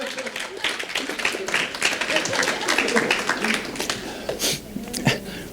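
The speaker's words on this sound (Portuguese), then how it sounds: "Dá uma salva de palmas a Jesus" A church congregation claps during a sermon, a few seconds of mixed, uneven clapping with a voice speaking over it, the hands rising and falling in intensity.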